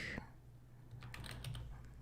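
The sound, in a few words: typing on a computer keyboard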